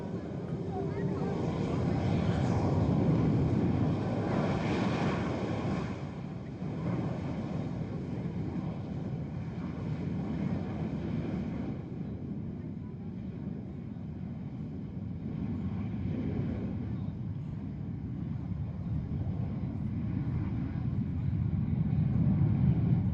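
Blue Angels demonstration jets taking off one at a time at an air show, a loud, steady engine roar that fills the whole stretch, swelling at the start and end and easing slightly in the middle.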